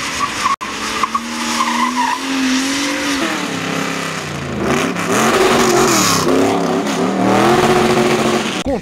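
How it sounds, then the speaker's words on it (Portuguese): Race cars on a track roar close by, their engines revving and rising in pitch as they accelerate, with tires squealing and skidding through the loud, continuous passage. "os carros acelerando aqui ao fundo"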